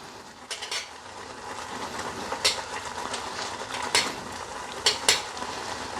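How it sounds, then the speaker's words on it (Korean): Jjajang sauce powder stirred into instant noodles, with soft scraping and occasional sharp utensil clinks against the pot over a steady hiss. "짜장 스프 넣고 잘 저어가"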